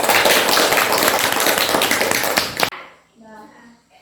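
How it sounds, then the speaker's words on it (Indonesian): Students in a classroom applaud after a group presentation, dense steady clapping for about two and a half seconds that cuts off abruptly, followed by a brief quiet voice. "Berikan tepuk tangan."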